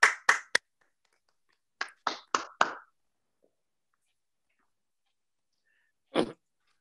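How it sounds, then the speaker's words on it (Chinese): A handful of sharp, sparse handclaps welcome guests onto a stage at an event, in two short clusters, then silence and one last isolated clap. "掌声欢迎。"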